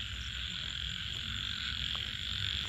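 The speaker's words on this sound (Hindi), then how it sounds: "मेंढकों की आवाज़ कितनी ज़्यादा आ रही है ये सुनो" Frogs croak in a dense, continuous nighttime chorus by a lake in the Aravali hills, a steady even wall of calls with no voices.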